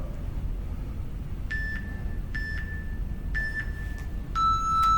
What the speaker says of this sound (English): And our round timer has begun already.